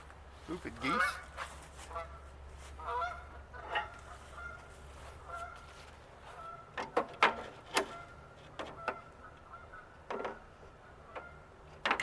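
Outdoors beside work on a 1990 Ford Bronco II's cracked grill, geese honk in irregular bursts over a low hum, mixed with sharp clicks and snaps of plastic being pried loose.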